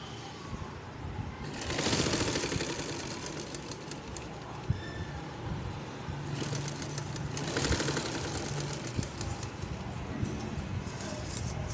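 Sewing machine stitching buckram at the corners of a boat-neck blouse, running in two bursts of rapid chattering stitches with quieter pauses between, close and steady against light background hum.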